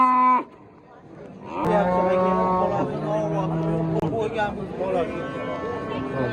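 Cattle at a livestock market moo in long, loud, drawn-out calls, one after another, close by. Busy market noise and people talking sit beneath them.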